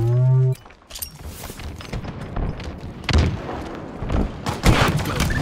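Gunfire rings out in the video game Halo Infinite after a short electronic tone, with several sharp shots and booming impacts cracking in quick succession over a busy, rumbling background.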